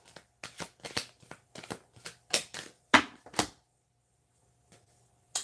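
Tarot cards are shuffled in a quick series of crisp riffling bursts, about a dozen close snaps over a few seconds, then near silence with one last faint rustle.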